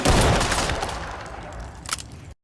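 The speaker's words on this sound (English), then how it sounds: "The 40mm launcher in Ready or Not is based on the H&K M320 grenade launcher." An H&K M320 40mm grenade launcher fires in the game Ready or Not, a single loud close blast with a burst of rumble that decays over about two seconds, no talk.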